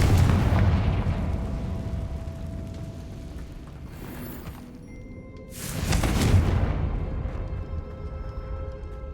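Two loud booming fire-spell explosions from the Confringo curse in Hogwarts Legacy, one at the start and another a few seconds later, each with a rumbling tail over a dense game soundscape.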